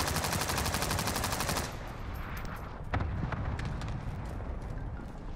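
Gunfire in the video game Warzone: a rapid, steady machine-gun burst sounds loud and close for over a second, then breaks into scattered single shots and distant pops over a busy background rumble.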